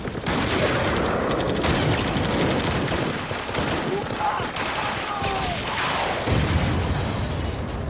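Continuous dense gunfire and explosions in combat between Russian and Georgian troops, a loud chaotic barrage of rapid shots without pauses.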